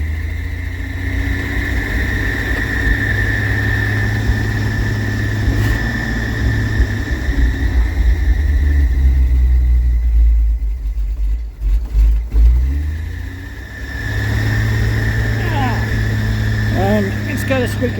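A 1966 Ford bucket truck engine idling after a cold start on a freshly fitted, not fully tuned carburetor, a loud steady rumble with a high whining squeal from a worn bearing, briefly revving, with someone talking over it.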